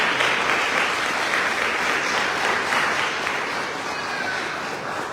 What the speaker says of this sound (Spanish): ¿Quiénes le dan un aplauso al Señor por eso?